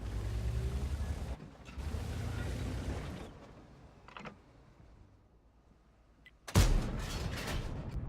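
A T-34-3 tank's cannon fires once in a tank video game, a sudden loud blast late in the sequence followed by a rumbling tail, after stretches of engine and mechanical noise.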